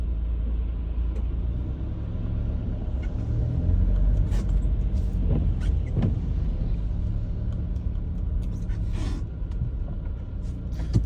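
Road traffic near a roundabout, heard from inside a car: a low, continuous engine rumble with passing vehicles and occasional brief hisses and knocks.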